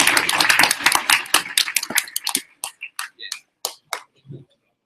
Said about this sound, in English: would you please give a thunderous round of applause for Lisa?